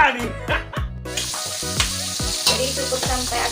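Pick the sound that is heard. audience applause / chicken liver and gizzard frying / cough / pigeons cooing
chicken liver and gizzard frying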